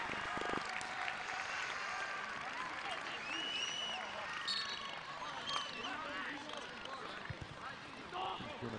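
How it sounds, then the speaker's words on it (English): Stadium crowd applauding during a boys' schools world championship football final between Brazil and Slovakia as a player is substituted, a broad continuous wash of clapping with commentary talking over it throughout. "Good round of applause."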